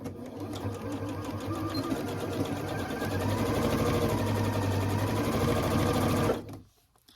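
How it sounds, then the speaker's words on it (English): A sewing machine stitches straight lines across a baby quilt, a rapid even mechanical chatter running loud and steady for several seconds before stopping abruptly. "Something very therapeutic about just stitching straight lines."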